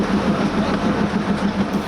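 A toy train on a hill railway rumbles steadily up close, with a regular rhythmic clatter from the wheels and no one speaking.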